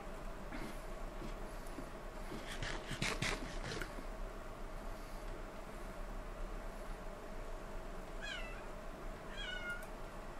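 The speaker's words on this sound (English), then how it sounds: "Shut up, cat." A cat meows a few times near the end, short rising cries over a steady low background hum, after a brief clatter earlier on.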